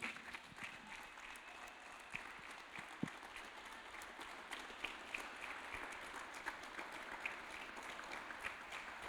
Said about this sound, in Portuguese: Mais uma salva de palmas para Jesus.